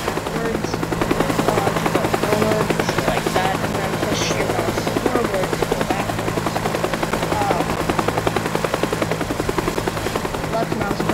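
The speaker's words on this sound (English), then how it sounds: "This is one of the Moore's Longa helicopters." A helicopter in the video game Teardown flies with a loud, steady rotor chop and engine drone throughout, close and continuous, with faint voices blended underneath.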